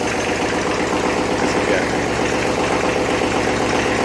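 A fifty-year-old Kubota tractor engine idles steadily up close, a continuous loud mechanical rumble with a rapid knocking pulse and no speech over it.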